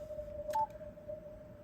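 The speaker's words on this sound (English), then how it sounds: "you hear that noise, that little ringing a little bit in the background" A faint, steady ringing tone sits low in the background of a quiet CW amateur radio receiver, holding constant throughout with one brief brighter blip partway through.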